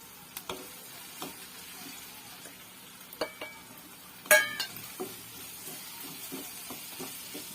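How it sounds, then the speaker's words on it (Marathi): Spices are stirred into golden-brown fried onions in a pan under a soft, steady sizzle, with scattered scraping knocks and clinks of a spoon against the pan, quiet and close. "कांदा गोल्डन ब्राऊन झालाय. आता आपण मसाले टाकून घेऊया."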